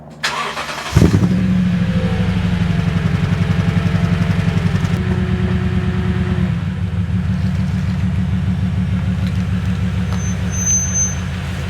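A 2016 Toyota Tundra pickup starts with a brief crank and catch, then settles into a loud, steady, close idle rumble that eases slightly after several seconds.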